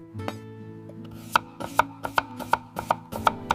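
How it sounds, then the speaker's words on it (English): A knife chops a carrot on a cutting board, roughly eight sharp, evenly spaced cuts in a steady rhythm, close and clear with no talking. "I cut the carrot."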